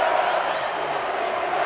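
The home crowd roars in a steady, loud wall of noise at a 1987 rugby union test match between Australia and Argentina.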